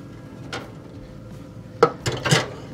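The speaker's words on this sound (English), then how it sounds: "I'm gonna go ahead and move the skillet back to the bottom" A cast-iron skillet scrapes and clanks on an oven rack as it is shifted down to the bottom shelf, a few short metallic knocks in quick succession over quiet room noise.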